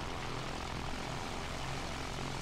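Propeller plane engine in the video game Battlefield 1, a steady, close droning roar with no pauses and no talk over it.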